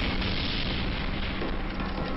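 B-52 bomber strike in a video game, a dense, loud, continuous roaring blast of explosions that holds at full strength throughout, with no talking.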